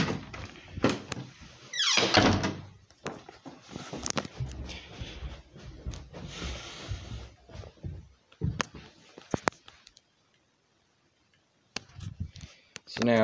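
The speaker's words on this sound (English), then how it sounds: "So now I'm going to open the 270 because it also has a brake rod in it." An EST 270 fire alarm pull station being opened, with close clicks, a squeaky scrape and plastic thunks scattered through the handling, someone speaking intermittently around them.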